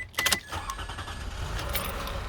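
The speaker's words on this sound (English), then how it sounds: "let me just start the engine." A Toyota Alphard running on LPG cranks and starts up: a short burst of cranking noise settles into a steady low engine idle that continues to the end, with no one speaking.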